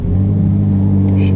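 A Ferrari 458 Italia engine runs in race mode, a loud, steady, close low rumble filling the whole stretch with a faint higher whir on top.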